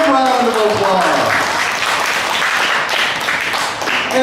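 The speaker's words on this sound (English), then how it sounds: "Give them a big round of applause." Audience applause at a county fair stage show, a dense steady wash of clapping from a crowd close by, with a voice speaking over the start.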